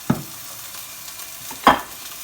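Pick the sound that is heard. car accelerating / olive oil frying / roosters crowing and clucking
olive oil frying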